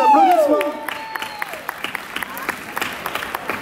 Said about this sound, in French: Lana, sous vos applaudissements.